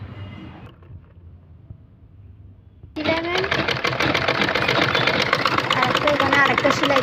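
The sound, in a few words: sewing machine stitching a kurti maxi dress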